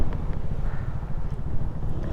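Strong wind gusting across an open mountaintop, a loud continuous low roar buffeting the microphone with no voices.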